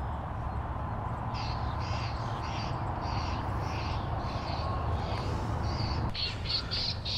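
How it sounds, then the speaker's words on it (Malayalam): At a berry-picking farm, a recorded crow-like call blares from a speaker to drive birds off, repeating as a regular series of harsh caws over a low, steady background hum, with a louder burst near the end. "അവർ ഈ കിളികളെ ഓടിക്കാനായിട്ട് വേറൊരു കിളിയുടെ ശബ്ദം റെക്കോർഡ് ചെയ്ത് അതവർ"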